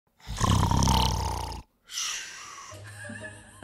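A voice imitates a girlfriend's loud, Shrek-like snoring with two long, rough, growling breaths separated by a brief pause, close and forceful.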